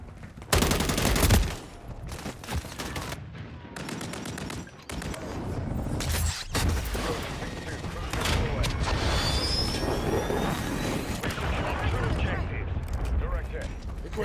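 Gunfire in Call of Duty Modern Warfare 3 on the Rust map during a Domination match: dense automatic bursts and sharp shots run almost continuously at close range, under radio voice callouts.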